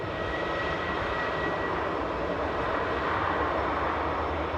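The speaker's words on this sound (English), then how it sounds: "I think I'm just going to peel to this Bristol bound A320" Engines of an Airbus A320 airliner bound for Bristol at Newcastle airport, a steady broadband roar with a faint whine, continuous and fairly distant, no voices.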